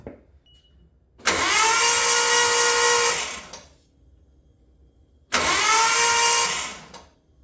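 A Nissan RB20 engine, unstarted for five years, cranks twice in long whirring bursts of about two seconds each, with a quiet pause between them; it is loud and close, with no voices.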